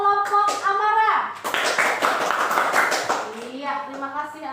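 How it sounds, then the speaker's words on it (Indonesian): A classroom of pupils claps for Amara's group, a burst of mixed hand claps rising in the middle of the clip, with children's and a teacher's voices talking over it before and after. "Tepuk tangan untuk kelompok Amara."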